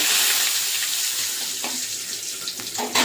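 Panch phoron spices and bay leaves crackle and sizzle in hot oil in a wok, a steady hissing fry with a few small pops toward the end.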